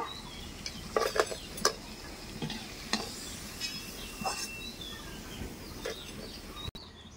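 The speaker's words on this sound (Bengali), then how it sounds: "একইভাবে আমি সব বড়াগুলো তেলের মধ্যে ভেজে নেব।" Banana flower fritters frying in hot oil give a steady, soft sizzle throughout, with a few sharp stirring scrapes and clicks near the start and one louder knock near the end.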